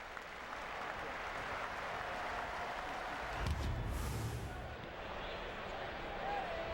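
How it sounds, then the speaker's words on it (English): A baseball stadium crowd in Boston gives Bill Buckner long, sustained applause at a Detroit-Boston game, a steady distant wash of clapping and cheering that swells briefly midway. "The applause went on for a very long time for Bill Buckner."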